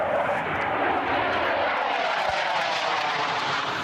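An airplane flies low overhead, its engine roar steady and loud throughout, a broad rushing drone filling the moment with no voices.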